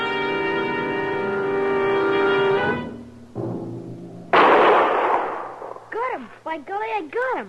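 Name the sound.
gunshot at a raccoon, radio drama effect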